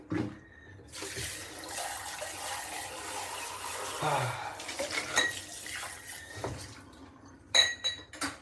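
Tap water runs into a sink while soapy dishes are rinsed, with clinks of plates and cutlery and sharper knocks near the end, close by, with someone talking over part of it.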